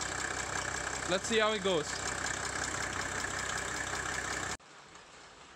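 A diesel engine idles steadily with a dense, buzzing drone and a little ticking sound, and someone briefly talks over it before the sound cuts off abruptly near the end.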